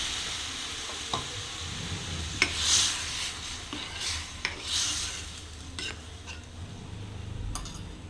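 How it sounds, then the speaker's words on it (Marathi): A spoon scrapes and stirs cooked red lentils into a pan with a few sharp knocks, over a low, steady sizzle close by. "आता ही शिजवून घेतलेली डाळ मी त्यात घालते"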